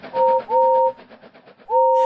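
A steam engine whistle blows in three loud, clear toots, two close together and a third after a short pause, with faint rhythmic chuffing between them.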